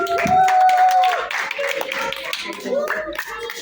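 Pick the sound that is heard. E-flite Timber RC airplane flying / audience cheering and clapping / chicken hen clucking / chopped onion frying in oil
audience cheering and clapping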